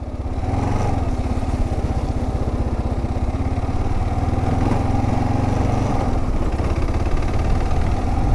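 A Kawasaki KLR650 single-cylinder motorcycle thumps along steadily while riding on a rough snowy trail near Baker Hot Springs, Utah, its close, constant engine drone holding an even rhythm throughout with no talking.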